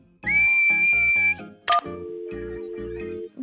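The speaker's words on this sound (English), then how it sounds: "Susie's sheep started whistling to Peppa Pig" A bright, sustained cartoon-style whistle from a sheep in Peppa Pig holds a steady high note, followed by a quick rising squeak, over a bouncy plucked musical backing.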